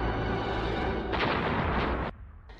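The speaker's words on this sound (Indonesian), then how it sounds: "dan ledakan pun terjadi." In a scene from the film Killer Limo (2017), a bomb explodes in a cardboard box with a loud, dense roar that swells midway and then cuts off sharply into a quieter rumbling tail.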